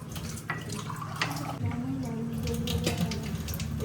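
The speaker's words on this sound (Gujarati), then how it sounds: "હું તમને લાઈવ પાણી પાઉં છું." Kangen water trickles and splashes as it is poured into a glass, a close, continuous liquid gurgle with a low humming tone underneath for a few seconds.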